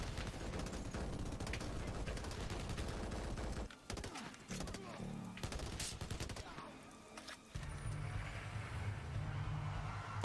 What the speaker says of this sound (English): Mounted gun? Yeah, mounted gun.